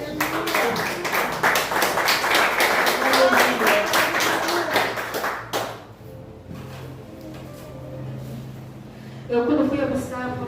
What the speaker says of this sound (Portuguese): Pode se sentar com palmas de vitória para Jesus.